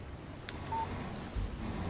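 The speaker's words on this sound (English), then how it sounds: "Text message from Barry" A brief electronic text message alert from a phone in the video game Alan Wake, a single short tone heard over a steady low background hum, with no talking.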